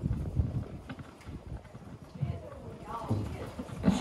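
A horse's hooves walk outdoors during a riding lesson, soft irregular thuds under a trainer's speech and light wind noise.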